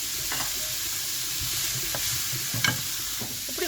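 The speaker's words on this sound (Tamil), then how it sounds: "இதோட சேர்த்து உப்பு போட்டு கொஞ்சம் வதங்க விடுவோம்" Chopped onions and green beans with salt sauté in a pan, giving a steady broadband sizzle with a few sharp spoon-scrape and stirring clicks.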